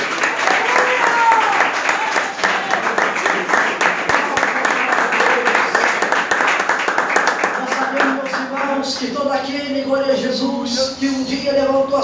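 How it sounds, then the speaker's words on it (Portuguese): Congregation at a church service clapping for Jesus, a loud, sustained crowd of handclaps with rhythmic pulses, and a voice speaking or singing over it as the clapping thins toward the end. "que pode bater palmas para Jesus"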